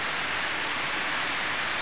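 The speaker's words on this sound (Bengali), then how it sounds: "কি বৃষ্টি, হায় হায় প্রচুর বৃষ্টি, প্রচুর বৃষ্টি" Heavy rain pouring steadily at night, a dense continuous hiss with no breaks and no voices over it.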